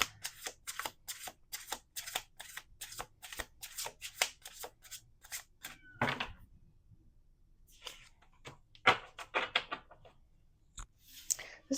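Tarot cards being shuffled by hand, a rapid run of crisp riffling flicks up close, then a pause and a few scattered card snaps and slides, with no talking.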